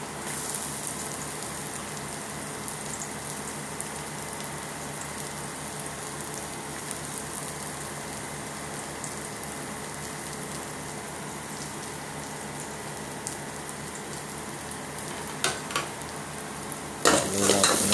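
Garlic sizzles steadily in a hot pan while cooking papaitan, a beef offal dish, giving a constant close hiss with occasional light utensil clinks near the end and no talking.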